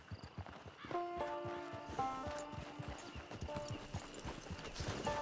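Horse hooves clip-clop at a walking pace with occasional snorts or a brief whinny, alongside ambient music in Red Dead Redemption 2 as a rider approaches a camp.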